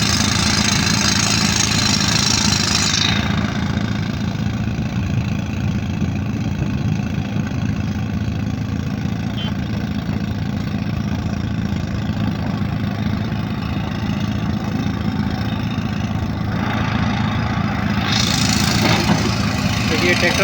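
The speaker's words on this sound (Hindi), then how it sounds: "देखिए ट्रैक्टर ले जा रहे हैं।" A tractor hauling a trolley at a stone-loading site runs steadily at close range, its continuous mid-pitched engine drone and knocking rumble holding constant for about twenty seconds with no voices over it.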